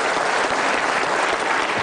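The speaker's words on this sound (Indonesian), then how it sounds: "Berikan tepuk tangan." A crowd claps steadily and loudly throughout, a dense, continuous wash of applause with no pauses.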